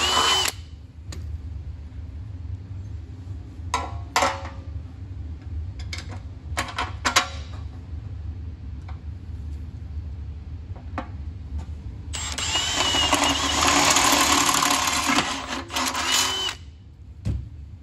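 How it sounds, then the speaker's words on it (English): A power drill bores holes in a steel mount for an outlaw kart seat, whirring in short bursts before a long, loud grinding cut near the end, recorded close in a workshop. "Okay, the holes are drilled for that lower seat mount."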